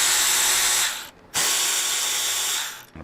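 A Torx 27 driver or power tool runs in two steady whirring bursts with a short pause between, unscrewing the handlebar switch housing on a 2024 Harley-Davidson Road Glide, close and loud with no talk.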